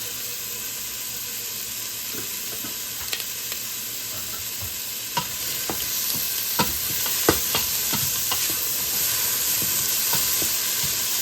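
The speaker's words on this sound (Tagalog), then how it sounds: "Saute for a few minutes." Onions sautéing in olive oil in a pan for vegetarian chili, a steady broadband sizzle with scattered sharp crackles and pops throughout, fairly loud and continuous with no talking.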